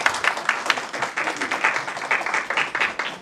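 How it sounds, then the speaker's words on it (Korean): A modest audience at a radio awards ceremony claps for a few seconds, a loose patter of individual hand claps, fairly close and even, with no voices over it. "박수 받아주시죠."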